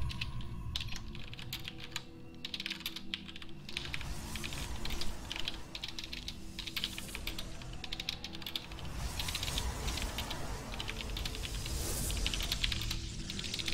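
Steady typing on a computer keyboard during a StarCraft-style strategy game match, a continuous rapid patter of key clicks close up, running throughout with game sounds faintly underneath.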